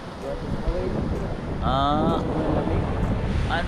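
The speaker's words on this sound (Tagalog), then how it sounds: "Kahit naman dito sa lupa eh, no, malakas ang hangin." Strong wind rumbles and buffets the microphone while someone rides a motorcycle, a steady, loud roar with brief tonal whines over it. People speak faintly under the noise.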